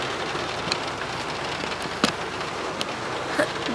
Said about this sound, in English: It just started raining.